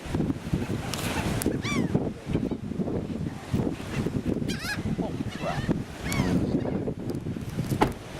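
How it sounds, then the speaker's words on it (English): Seagulls squawk and cry repeatedly on a beach, the sharp calls rising over steady wind buffeting the microphone and surf noise, some near and some farther off. "There's Tyler being attacked by seagulls"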